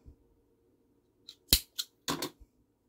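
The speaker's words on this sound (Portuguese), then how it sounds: "agora eu vou cortar esse meu fio" Scissors snip through yarn in a few quick, close, crisp cuts, sharp metallic clicks separated by short pauses in an otherwise quiet room.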